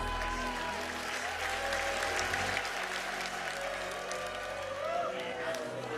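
Church congregation clapping together in steady sustained applause, close and even, with a singing or speaking voice and faint music running underneath.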